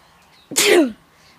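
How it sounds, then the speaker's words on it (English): A single loud, close sneeze bursts out alone, short and sharp with a breathy tail, in a quiet home setting with a boxer dog and a cat nearby. "There's that sneeze."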